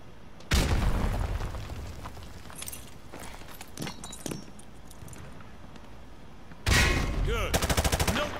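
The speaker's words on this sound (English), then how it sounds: "Toss the grenade down the range to take out several targets at once." Frag grenade explosions on a firing range in Call of Duty: Modern Warfare 2, two loud booming blasts with a long rumbling tail between, the second followed by rapid crackling bursts.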